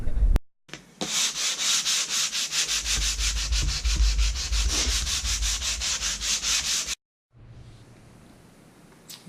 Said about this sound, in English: Sanded down to using 220 grit sandpaper.